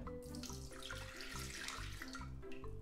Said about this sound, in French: je vais déjà rajouter mon lait tiède.